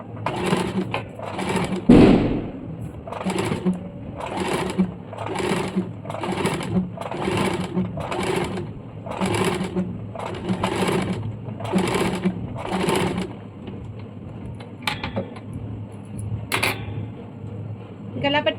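A sewing machine stitches a baby umbrella frock in about eleven steady, evenly spaced bursts, each a second or so long, fairly close, with a brief thump near the start and lighter handling noises toward the end.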